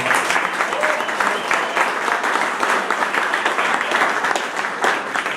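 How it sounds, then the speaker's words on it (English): Loud, dense applause from a meeting audience honoring a mayor, continuous and close, a full wash of many hands clapping at once without a break for the whole stretch. "Please give him a round of applause."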